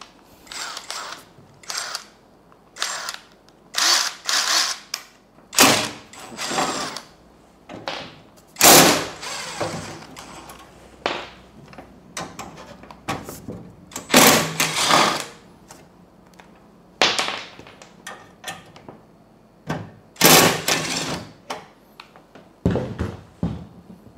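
Bolts being unscrewed from an ALDO TBS-157 dust-free table saw, an irregular series of close metallic clicks, ratcheting and clunks with short pauses between bursts, no speech.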